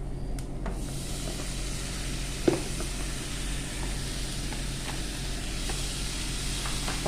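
Ground spices sizzling in a frying pan with oil as tomato is added for an egg curry, a steady close hiss with a few small pops and spoon taps.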